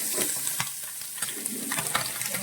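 Anchovies sizzle and spit steadily in a hot frying pan while being turned over, with a few sharp scraping clicks from the utensil over the continuous close frying hiss.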